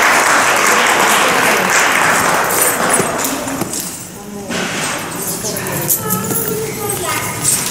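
Audience applause after a dance school students' Kuchipudi performance, loud dense clapping that thins briefly midway and resumes, with voices chattering through it.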